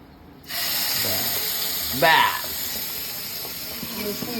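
A mixer grinder grinding boiled green banana peel switches on abruptly and keeps up a loud, steady whirring drone, with a brief voice heard over it.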